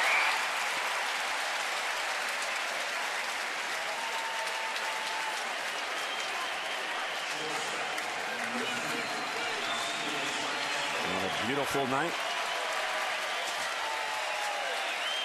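A baseball stadium crowd at Oriole Park in Baltimore applauds and cheers during a night game as fans rise to their feet. The dense, continuous roar is heard under a commentator's speech.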